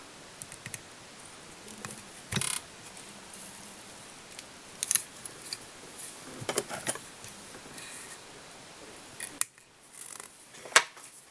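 Scissors snip away excess material at a fly-tying vise while tying a baby perch tube fly, giving several sharp close clicks and short cuts scattered over a quiet background.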